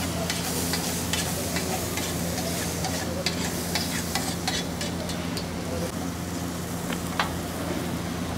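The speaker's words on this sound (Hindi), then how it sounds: "अब देखिए पूरा प्याज में लगा के कुलचे को अच्छे से सेका जा रहा है।" Kulcha roasting on a hot griddle with onion pressed onto it, a continuous sizzle scattered with sharp scraping and tapping clicks, under a low hum and distant traffic-like murmur, with no voices.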